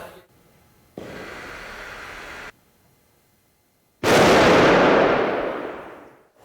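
A sharp, very loud M80 firecracker blast goes off nearby in a shop, followed by a long roaring rush of noise that slowly fades, after quieter hissing before it.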